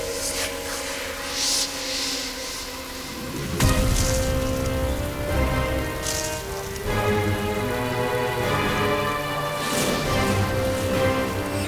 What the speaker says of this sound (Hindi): बारिश बहुत तेज